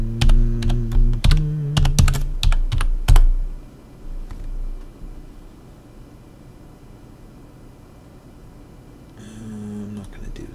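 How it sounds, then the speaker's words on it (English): A wallet ID is typed on a computer keyboard in a rapid run of close, sharp key clicks over the first few seconds, then a quiet hum, with a short burst of typing at the very end. "we're going to paste that wallet ID in there and we'll type in this in."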